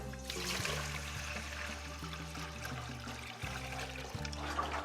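Water runs and splashes steadily into a dog bowl for thirsty dogs, close by, over a low constant hum.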